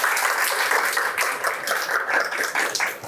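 An audience of children and adults applauds to welcome a university professor giving a public science lecture on semiconductors, a dense, lively wash of many hands clapping continuously, loud and close.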